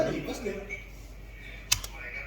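A single sharp keypress on a computer keyboard, the Enter key hit in a terminal, sounds as a brief close click with a small follow-up tap, after a stretch of talking.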